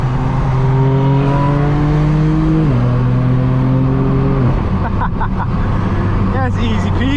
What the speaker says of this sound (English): All you hear is turbos on this car.